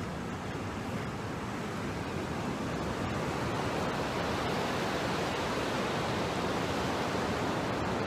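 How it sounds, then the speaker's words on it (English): Ocean waves breaking on a beach the day after a windstorm, a steady broad wash of surf rolling continuously at moderate distance with no talk over it. "Waves must be from the windstorm we had yesterday."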